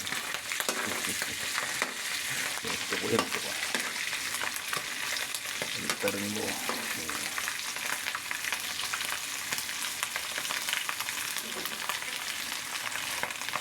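Loud, steady sizzling of water spinach frying in hot oil, close by, with a few brief spoken words underneath.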